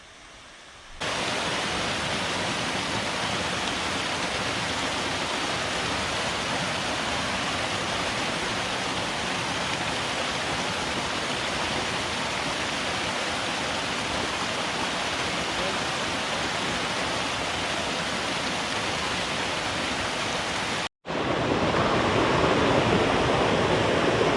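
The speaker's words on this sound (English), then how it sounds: "We've got some nice waterfall action along the trail." Loud, steady roar of rushing water from a nearby rockside waterfall on a mountain trail, continuous broadband noise that cuts out briefly and returns slightly brighter.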